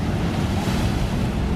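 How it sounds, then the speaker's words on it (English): Ocean surf crashes against rocks on the Maui coast, a loud continuous roar of breaking waves with heavy wind buffeting the microphone throughout. "We're gonna go up close to see the monstrous waves. There's some crashing happening along the rocks."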